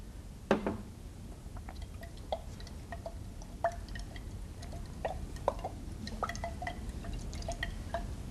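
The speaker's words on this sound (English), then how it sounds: "Now I am adding water in both the test tubes." Water is added to test tubes during a science demonstration: quiet, irregular drips and small trickling splashes, with a few slightly louder plinks, over a faint steady background hiss.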